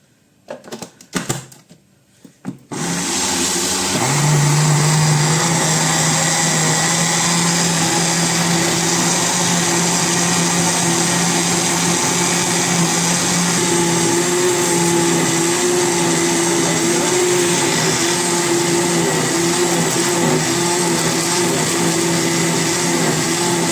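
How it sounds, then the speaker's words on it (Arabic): Electric mixer beating cake batter until the sugar dissolves, a steady loud motor whine running continuously after a few seconds of brief clattering start-up, with no talking over it. "يضربوا بقى ضرب كويس لغاية السكر ما يدوب"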